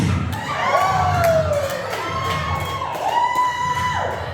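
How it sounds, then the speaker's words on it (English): A comedy club audience at Stein's Taphouse cheers and whoops, with sustained shouted voices rising and falling over a few seconds, fairly close and loud. "I get it, it's patriotic, you want to cheer"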